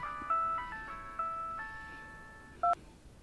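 A phone rings with a short electronic melody of bright tones, followed by a brief higher beep near the end, set against a quiet room.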